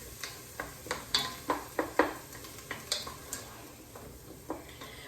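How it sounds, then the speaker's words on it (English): Stirring in a pot while sautéing onions for carrot soup, with a steady run of spoon knocks and scrapes against the pot over a faint sizzle, close and moderately quiet, no talk. "Stir this around."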